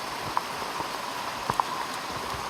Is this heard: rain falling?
yes